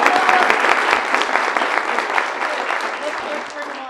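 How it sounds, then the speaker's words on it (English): Elementary students are applauded at a school board meeting, with a room full of people clapping loudly and steadily, some voices mixed in under the clapping before it thins slightly at the end. "One more round of applause for our elementary students."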